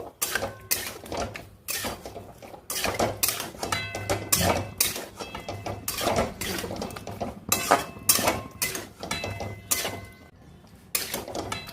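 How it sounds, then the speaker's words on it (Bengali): Chicken tossed and mixed into Manchurian sauce in a pan, with a steady run of loud metal spatula scrapes and clanks against the pan, repeated in quick bursts. "এবার চিকেনগুলো এর মধ্যে দিয়ে দেবো এবার পুরো মিশিয়ে নেবো"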